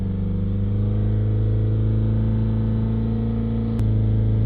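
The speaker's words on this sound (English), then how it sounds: "we're going to try and hold the revs back up at 3000 RPM" A Honda CR-V with a blocked DPF has its engine held steadily at about 3000 RPM, a loud, even droning hum heard from nearby, with one brief click near the end and no talking.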